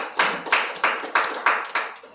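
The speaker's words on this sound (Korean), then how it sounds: "큰 박수 부탁드립니다" Church congregation claps in unison for a pastor, seven evenly spaced loud claps in a steady rhythmic beat, close and clear.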